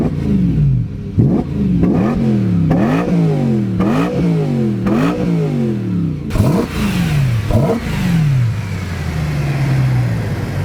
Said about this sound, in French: il y a un putain de bruit d'admission